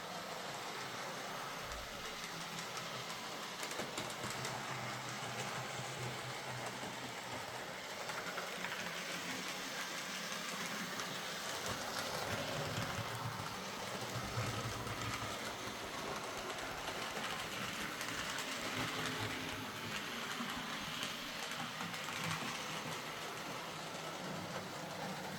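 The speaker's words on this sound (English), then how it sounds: "after that, the locomotive runs very nicely" A model locomotive runs along its track in a shed, a faint, steady rolling rumble continuing without pause for the whole stretch, with no voices.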